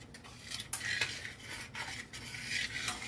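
A spoon scrapes and swirls Jiffy cornbread mix in a 2-cup mixing cup, giving soft, irregular strokes with a few clinks against the sides, close and quiet.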